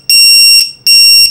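A Matek lost model alarm buzzer for iNav sounds two long, piercing, steady electronic beeps separated by a short gap, extremely loud and close, with no talking.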